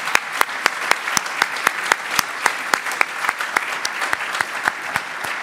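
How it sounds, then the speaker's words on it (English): Audience applause at a marine conservation award ceremony, with sparse, separate claps sounding steadily in a fairly close, even rhythm for several seconds and no talk over them. "a big round of applause for our finalists and for our winner"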